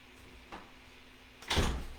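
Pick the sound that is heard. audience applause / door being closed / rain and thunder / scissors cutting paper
door being closed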